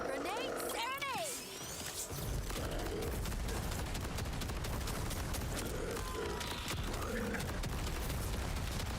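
Video game combat with grenade explosions and dense gunfire, a continuous loud barrage of booms and shots, with voices talking over it.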